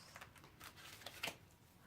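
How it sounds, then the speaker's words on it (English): Tarot cards being shuffled by hand at a quiet, close distance, with soft repeated riffling and sliding bursts and one sharper flick near the end, with no talk over it. "now I'll start shuffling the cards"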